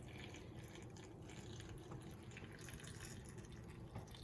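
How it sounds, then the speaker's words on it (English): White vinegar pours steadily into a jar packed with hot peppers, a continuous close liquid rush and trickle that carries on without a break. "we're just going to pour until this is covered with white vinegar"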